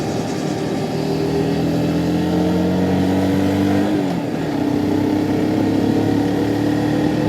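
A SYM NH X 125 scooter engine runs on the road, with a loud, sustained mid-pitched drone that shifts in tone partway through as the revs change, heard alone without talk.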